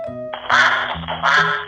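A duck gives two nasal quacks, loud and close, over a simple synthesized musical backing typical of a children's animal sound lesson.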